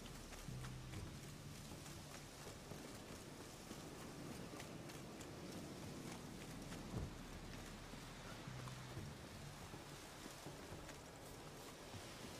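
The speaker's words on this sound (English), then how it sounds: "Looks like rain." Steady rain falls in The Witcher 3, a dense, even hiss of droplets that holds at a constant level throughout, with a faint low rumble underneath.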